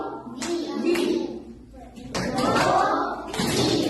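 Primary-school children in a classroom clap out the syllables of words, giving a few sharp, separated hand claps in small groups. A teacher's voice and children's voices are heard between the claps.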